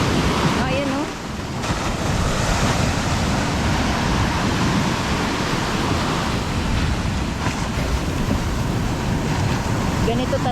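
Rough sea surf pounding during stormy weather, a loud churning roar of breaking waves mixed with gusting wind buffeting the microphone, continuous and close with no speech.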